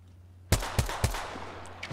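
Three sharp gunshots from bots in Apex Legends, spaced evenly about a quarter second apart, followed by a fading tail and faint distant shots.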